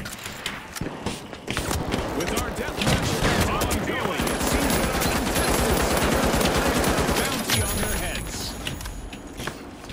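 Rapid turret gunfire from a Heavy in a solo-queue shooter match, a dense sustained burst of shots running for several seconds under voices, then tapering off near the end.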